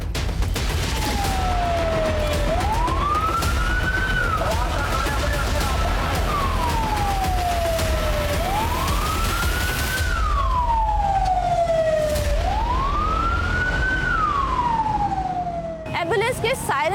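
An ambulance siren wails, sweeping up and down in long, slow cycles, loud and steady for the whole stretch, with traffic rumble beneath it.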